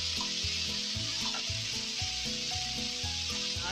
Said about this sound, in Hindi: हाई फ्लेम पे हमने 4 से 5 मिनट इसको इसी तरीके से मिक्स करते हुए हिलाते हुए पका लेना है